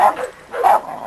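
A dog in a backyard kennel lets out two short, loud barks about half a second apart, close to the listener.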